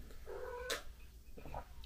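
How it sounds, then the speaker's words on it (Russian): A cat meows once indoors, a drawn-out, fairly quiet cry that rises and falls, followed by a few faint softer sounds. "К нам пришла кошка, возможно, ее слышно."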